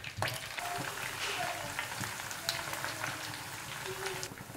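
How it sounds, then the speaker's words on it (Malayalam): Chicken pieces frying in hot oil for restaurant-style garlic chicken, giving a steady dense sizzle and crackle throughout with a few sharper pops, fairly close. "ബാക്കിയുള്ള ചിക്കൻ കഷ്ണങ്ങൾ നമുക്ക് ഇതുപോലെ തന്നെ ഫ്രൈ ചെയ്തെടുക്കാം"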